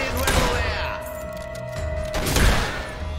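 Gunfire from shooting enemies in the video game Fable III, with repeated loud shots and thuds over game music, including a heavy burst near the start and another near the end.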